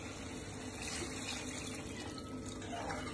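Water poured into a pot of curd gravy cooking on the stove, a soft, continuous gushing and trickling that stays even and fairly quiet throughout.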